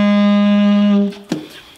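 A sustained saxophone note holds steady, then drops a half step to a slightly lower tone that fades out quickly, played alone.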